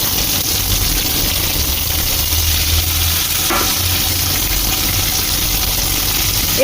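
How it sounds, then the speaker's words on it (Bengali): Potatoes and onions fry together in a pan for a fish curry, giving a steady, loud sizzle with crackling throughout and a brief stir or clink partway through. "এবার পেঁয়াজ আর আলু একসাথে খুব ভালো করে ভেজে নেব।"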